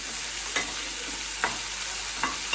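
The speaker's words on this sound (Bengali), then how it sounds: "কাঁচা লঙ্কা রসুন আর পেঁয়াজ দিয়ে ঢেঁড়সটা ভাজছি" Okra frying with green chilli, garlic and onion in a wok: a steady, soft sizzle broken by a stirring scrape roughly every second, with no voices.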